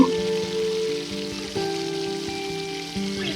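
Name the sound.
cumin and garlic sizzling in hot oil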